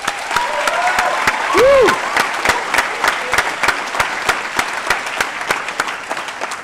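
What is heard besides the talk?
audience applause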